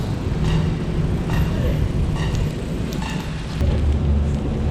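Steady rain on a street along the Pasig River esplanade, a continuous broadband hiss with a low rumble that may be passing traffic, loud and close throughout.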